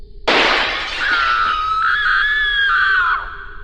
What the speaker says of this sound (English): the next thing I heard was the sound of glass shattering